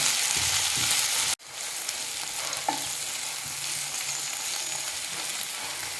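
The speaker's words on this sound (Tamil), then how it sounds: "எண்ணெய் சேர்த்துட்டு இந்த வெண்டைக்காயை வதக்கி எடுத்துக்கிறேன்" Okra sautéing in oil in a pan, a constant close hiss of frying with one brief drop in the sizzle and faint stirring.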